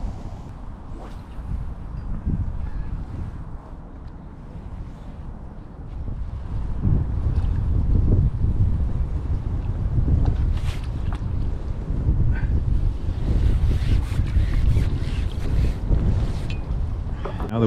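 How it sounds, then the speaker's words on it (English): Steady wind buffets the microphone at a fishing lake during a match, a constant low roar that grows louder and gustier about halfway through, with occasional faint knocks of fishing gear. "Now the wind's changed direction, it's sort of diagonally into our faces now rather than left to right"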